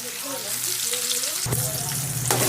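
Onions and tomatoes frying in a pan for a village-style spicy crab fry, a steady close sizzle with a louder burst of stirring partway through.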